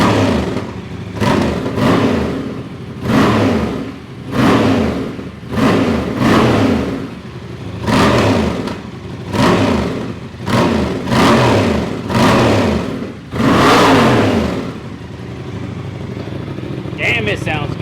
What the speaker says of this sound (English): bike's warmed up. Let's give it some revs.